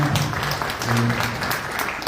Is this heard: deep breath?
no